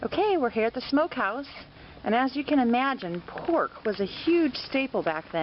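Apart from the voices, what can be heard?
No everyday noise stands out behind the speech.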